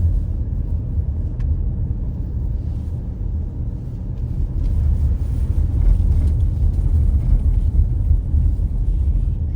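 A car drives through the Bavona Valley in southern Switzerland's Ticino, its engine and tyres a steady low rumble with some wind buffeting, constant and close throughout with no talk.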